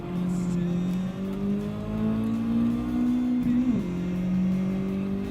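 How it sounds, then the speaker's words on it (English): A Mazda race car in the racing game Gran Turismo 7 holds a loud, sustained engine note that climbs steadily in pitch, dips sharply at a gear change, then carries on rising, heard up close. "Mazda sounds great though"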